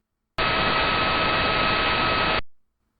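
Radio recording of a pulsar spinning over 600 times per second, heard as a steady, loud, broadband hiss with a faint steady tone inside, lasting about two seconds before fading out.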